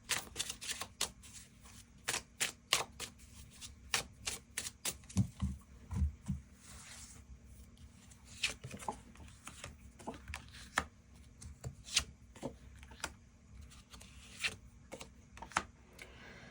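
Tarot cards being shuffled and drawn, giving dry papery riffles and sharp snaps in irregular bursts, close and fairly quiet, with no talk.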